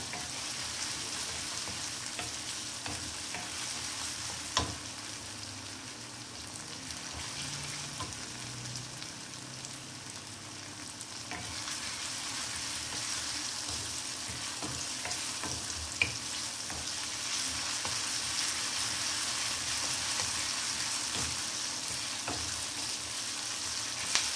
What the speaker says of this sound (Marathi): आता कढीपत्ता पण परतून झालेला आहे आणि कढीपत्ता टाकल्यामुळे त्याला छान सुवास सुटलेला आहे